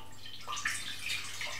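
Cold water, about 250 ml, splashes and trickles into a cooking pot in a home kitchen, a faint, brief pouring sound with light bubbling.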